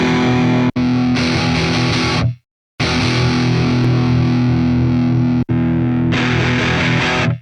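Loud, heavily distorted electric guitar chugging through a Mesa-style amp model on a Donner Hush-X Pro, thick and saturated, with a brief silent break before the riff resumes.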